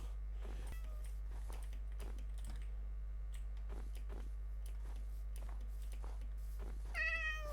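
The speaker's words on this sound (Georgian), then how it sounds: "მიაუ მიაუ" A cat meows repeatedly in the Minecraft video game, spaced calls over a steady low hum and clicking keyboard typing, with a louder, higher meow near the end.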